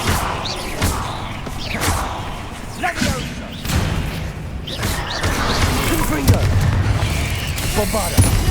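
Bombarda blasting spell explosions in Hogwarts Legacy, a series of loud booming bursts and whooshes amid combat effects, with a voice shouting spell names over the action.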